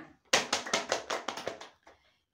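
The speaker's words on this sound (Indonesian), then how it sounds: "Mari kita berikan tepuk tangan untuk kelompok 5." Short burst of applause for a student group at a microteaching competition in an economics education program, many hands clapping in a quick rhythm for about a second and a half, then fading to a few scattered claps.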